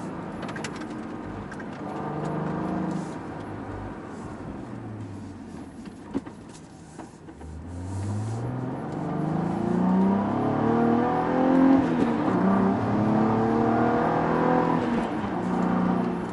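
A Cadillac ATS-V sports sedan engine revs and climbs through the gears of its manual transmission, pitch sweeping upward repeatedly as it accelerates, heard from inside over road noise.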